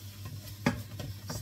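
A spatula stirs fried rice in a hot pan with garlic, giving a few soft scraping strokes and one sharper clack over a faint sizzle.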